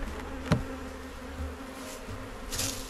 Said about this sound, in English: Swarm number 7 with a big, beautiful, newly marked queen